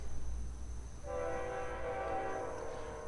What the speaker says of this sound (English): Apologize for the train in the back.